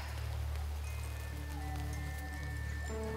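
Soft, steady rain patters in The Quarry video game at night near a bonfire at a summer camp, a faint continuous hiss with low tonal drones and hum running beneath.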